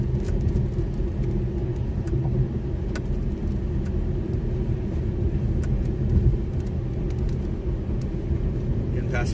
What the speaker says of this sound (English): Getting passed by another storm chaser here.